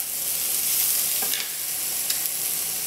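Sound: sautéing shallots in a pan

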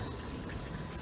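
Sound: well water pouring into a greenhouse reservoir

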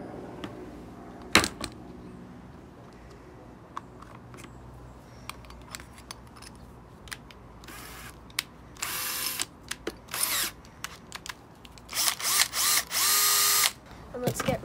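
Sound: power drill drilling holes

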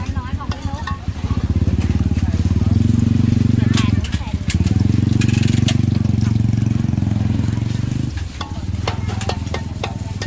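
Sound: Thai omelette (khai jiao) eggs frying in fresh oil

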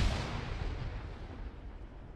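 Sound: grenade explosion in ShackTac video game

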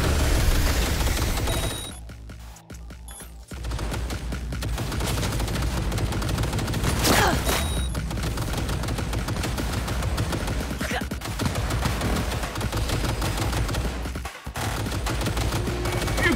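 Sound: gunfire in the video game Cyberpunk 2077

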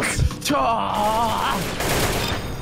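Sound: baseball gun firing baseballs in Roblox video game

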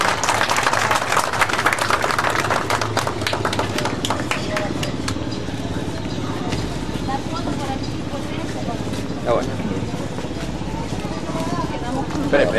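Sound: applause for the participants after the church blessing

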